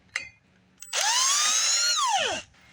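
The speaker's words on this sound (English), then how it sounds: "So we're going to go ahead and get that bit and take that out." A power driver whirs loudly for about a second and a half, spinning out a T30 Torx screw from the brake rotor of a 2011 Chevy Traverse, its pitch falling as it winds down, preceded by a few short clicks.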